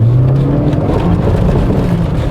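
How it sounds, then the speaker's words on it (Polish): A VW Golf IV GTI hot hatch accelerates on asphalt, its engine a loud, steady drone heard from inside the car with a rising tone, continuous throughout and without speech. "na asfalcie cudownie przyspiesza"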